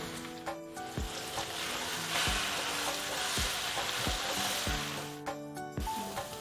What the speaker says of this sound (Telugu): మిగిలిన గోంగూర కూడా వేపుతున్నాను